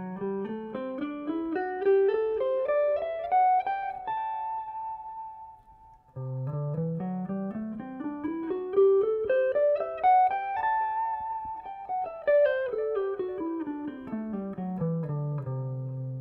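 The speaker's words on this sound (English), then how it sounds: "we would have a scale that is hexatonic and sounds like this." A six-note hexatonic scale built from a pair of triads, with a Lydian colour, is played as a clean melodic line that rises smoothly, holds, then rises again and descends, each note distinct and sustained, with no talk.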